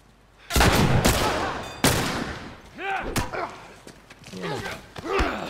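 Gunfire rattles through a firefight in The Last of Us Part II, with loud bursts of shots and sharp impacts up front, followed by fainter shots mixed with game voices and grunts.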